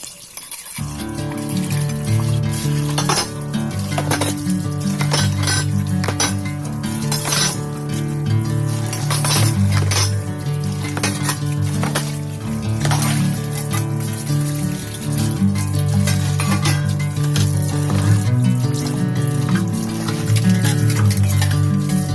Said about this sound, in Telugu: ఇక్కడైతే గిన్నెలు అవన్నీ కడిగేసుకుంటున్నాను